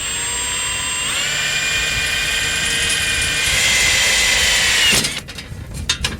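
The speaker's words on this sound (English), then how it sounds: "let's go ahead and take our drill bit" A power drill whines steadily at high speed for several seconds while drilling a hole for an RV step support kit, then cuts off, followed by a few short clicks and rattles.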